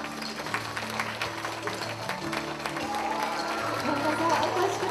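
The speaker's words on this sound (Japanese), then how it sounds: "大きな拍手でお迎えください。" An audience at a Japanese cosmetics launch event claps steadily, a soft dense patter of applause that grows louder toward the end, with a voice and background music underneath.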